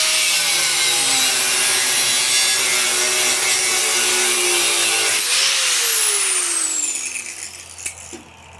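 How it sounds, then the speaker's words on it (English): An angle grinder cuts through a metal part with a loud, steady whine and gritty grinding, then the pitch drops as the tool winds down and stops, leaving a few faint clanks. "I'm going to take the grinder. I'm just going to hack it right here"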